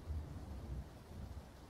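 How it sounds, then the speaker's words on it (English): Rain and rolling thunder in the PUBG video game, a faint low rumble swelling and receding twice under a soft steady hiss of rainfall, distant and quiet with no talking. "And this damn rain."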